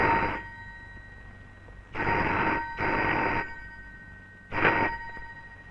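A telephone rings in three separate bursts with short silent gaps between them, clear and fairly close, with no one talking.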